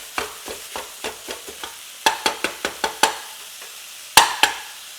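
Meat browns in a pan for a breakfast casserole, the sizzle broken by a series of sharp, close scraping clacks of a utensil against the pan, coming in quick bursts with pauses between.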